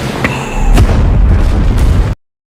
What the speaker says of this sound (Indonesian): bom tersebut akan meledak saat pemilihan